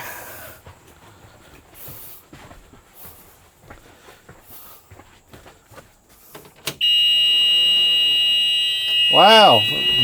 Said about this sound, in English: I got the buzzer alarm that's telling me, hey, something's not right